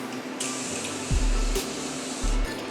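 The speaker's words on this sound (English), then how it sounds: "I wanna go in with my Morphe setting spray and really just set everything down." Morphe makeup setting spray bottle misting close up in a couple of soft, short hissing spritzes over a steady background hum.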